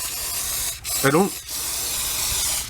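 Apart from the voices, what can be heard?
spraying cleaner under a car hood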